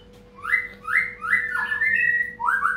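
A tame long-tailed white-rumped shama sings close and alone, a string of clear rising and sliding whistled phrases over a faint steady hum.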